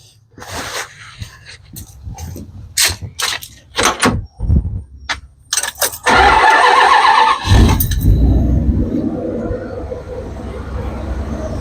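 A vehicle engine cranks and fires up after a Saginaw power steering pump rebuild, with several short bursts before it catches and settles into a loud, steady idle close by.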